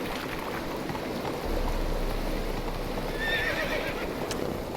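A horse whinnies and hooves clip-clop in The Witcher 3 video game, a clear neigh over steady hoofbeats and flowing water in the background, with no talk.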